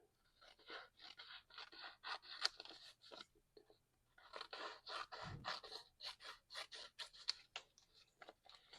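Scissors trim folded paper for a fall craft project, making close, crisp snipping and scraping cuts in rapid rhythmic runs, with one short pause midway and no talking.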